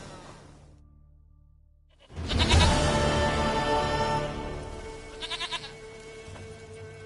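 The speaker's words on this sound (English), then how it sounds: "Goat of mine! Dearest, sweetest goat!" A goat in The Witcher 3 lets out a loud, close, wavering bleat after a quiet stretch, followed by a shorter trembling bleat, with game ambience underneath and no speech.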